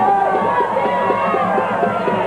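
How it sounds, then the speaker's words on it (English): Crowd at a 1999 high school football game between Washington and Mt Pleasant, a loud, steady roar of cheering and chatter with rhythmic rises, heard alone without a clear single voice. "Now you can hear the crowd kind of getting into it now"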